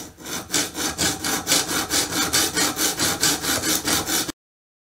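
A homemade knife blade drawn back and forth over a coarse 100-grit stone on an Ermak 10 sharpener, about fifteen even, close rasping strokes in a steady rhythm before it stops.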